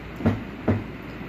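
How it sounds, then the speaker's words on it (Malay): Two heavy, dull foot stomps land about half a second apart, deep and thudding against the floor in a body-percussion demonstration, with quiet room tone between them and no talking. "Kalau hentak kaki pula, bunyinya berat dan dalam."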